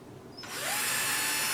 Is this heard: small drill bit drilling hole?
yes